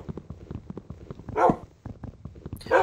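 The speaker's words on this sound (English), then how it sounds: "that dog that's barking" A dog barks a few times in the background while a game is played, with low rhythmic tapping beneath and two louder bright bursts partway through and at the end.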